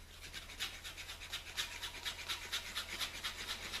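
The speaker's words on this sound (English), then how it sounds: "we're just going to stir this up first with the putty knife" A putty knife stirs and scrapes glazing putty body filler with hardener in a can during a radiator support rebuild, giving a soft, quiet, rhythmic rubbing at close range with no talk.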